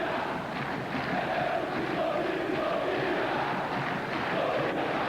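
Football crowd in a stadium roaring after a Fluminense goal, a dense, sustained wash of cheering voices with no break, loud and even throughout.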